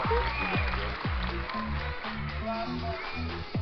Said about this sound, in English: We'll give a massive round of applause for both teams in the final of the knockout round